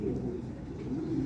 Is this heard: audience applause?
no